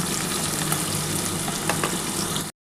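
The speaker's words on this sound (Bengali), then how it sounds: "আমার কিন্তু পেঁয়াজটা খুব ভালোভাবে মোটামুটি ভাজা হয়ে এসছে" Onion sizzles steadily in a pan of hot oil for a Bengali chicken and potato curry, with occasional scraping stirs over a continuous dense fry noise that cuts off abruptly at the end.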